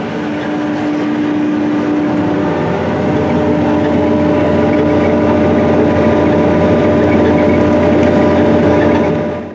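Case IH tractor pulling an Early Riser corn planter across a field at about 6.5 miles per hour, a loud, steady engine drone and mechanical rumble, close by, with no talking.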